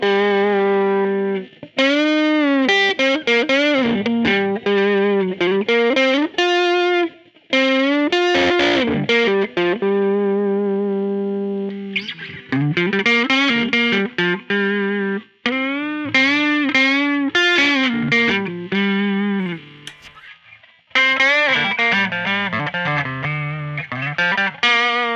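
A Gibson electric guitar played through its Varitone tone selector sounds in a steady stream of melodic phrases, with brief pauses between runs; close, loud and processed, with a filtered, effected tone and no talking.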